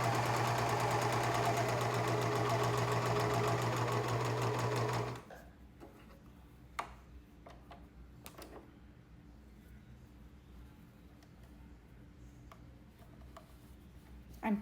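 Sewing machine stitching fabric, a fast steady mechanical whir for about five seconds, loud and close, then stopping, followed by quiet handling clicks and rustles.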